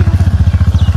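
A scooter carrying three riders gives a close, fast, pulsing engine putter that stays steady and loud for a second.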